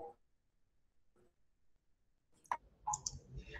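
Computer mouse clicks during a live computing class, a few sharp clicks standing out near the end after quiet stretches with faint voices in the background.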